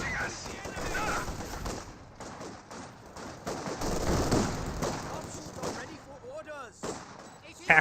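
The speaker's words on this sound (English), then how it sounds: "soon we'll be seeing fire from T-70" Tank gunfire and battle noise from a T-70 in Company of Heroes 2, scattered shots and rumbling impacts rising and falling under a commentator's talk, with birdlike chirps near the end.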